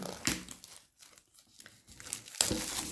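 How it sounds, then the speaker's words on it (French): Crinkly plastic blister packaging on an oracle card deck being handled and peeled open, with bursts of crackling and tearing separated by brief quiet pauses. "On lui enlève son petit blister."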